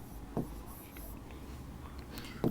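Writing on a board in a mathematics classroom: faint, close scratchy strokes with two short sharper taps, near the start and at the end, over a quiet room hiss.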